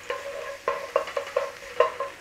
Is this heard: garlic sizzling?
yes